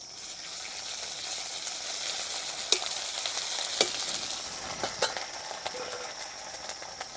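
Onions frying in a pan as ginger garlic paste is added, a continuous close sizzle with occasional sharp spatula clinks and stirring scrapes over the hiss.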